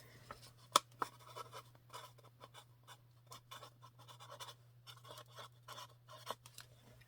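A marker writes a label on a plastic Solo cup for tomato seedlings, giving faint, close scratchy strokes in short bursts over a low steady hum.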